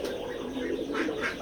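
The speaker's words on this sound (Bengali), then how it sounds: "আমরা আমাদের এই খামারে কবুতর লালন পালন করি" Domestic pigeons on a pigeon farm give a short, close burst of soft throaty cooing with slight rising warbles.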